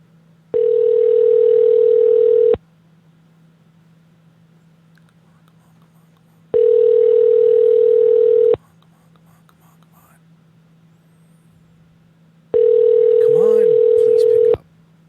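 A steady electronic telephone ringback tone repeats three times, each burst about two seconds long with pauses between, over a faint hum and a few quiet background sounds.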